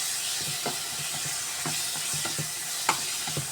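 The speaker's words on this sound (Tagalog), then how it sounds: "haluin natin." Tomatoes with pepper powder being stirred in a pan, a continuous hissing sizzle under soft, repeated scrapes and light taps of a utensil, quiet and close, with no voices.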